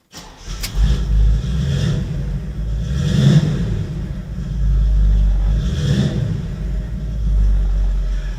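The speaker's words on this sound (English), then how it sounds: "I'll start the engine." A 1969 Chevrolet Camaro RS SS engine cranks, catches and settles into a loud, close, deep rumbling idle, swelling with a few throttle blips, with no talking over it.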